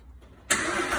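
A car engine cranks and catches at the push of a start button, jumping abruptly from quiet to a loud steady running roar.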